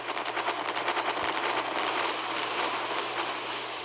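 Ship guns firing in the Naval Creed naval combat video game, rapid repeated bursts of gunfire over a washing, sea-like background, steady and moderately loud, with no voices.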